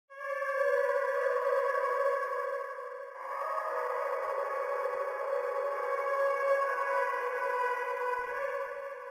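A held vocal sample from a beat-making vocal kit sings a smooth, airy sustained tone that shifts to a new pitch about midway, playing alone at a soft level.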